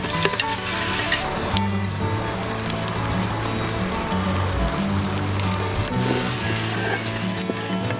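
Fried chicken pieces stirred into a hot masala of chicken masala powder, coriander and mint for Malabar chicken dum biryani, giving a steady sizzling hiss with soft stirring and clatter throughout.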